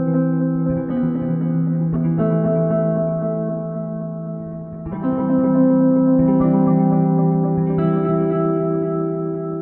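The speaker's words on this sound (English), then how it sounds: "Below that we have the original sound pitched down an octave." A sustained synth-like tone pitched down an octave, with reverb switched off, plays as a dry layered drone with stacked harmonics, shifting chords around the midpoint and holding steady and fairly loud throughout.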